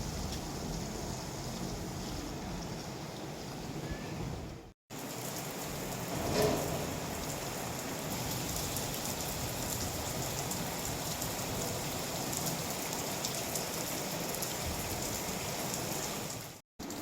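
Steady rain falls outdoors in a Pathani village in Pakistan, a dense, even hiss of drops on surfaces that stays constant throughout.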